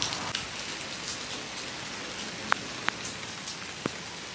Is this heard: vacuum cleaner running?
no